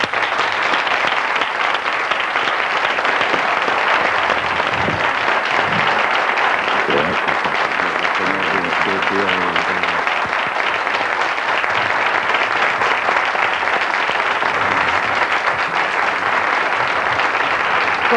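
A studio audience at a 1995 Spanish television talk show applauds loudly and steadily for the whole stretch, a dense continuous roar of clapping with a faint voice briefly audible beneath it.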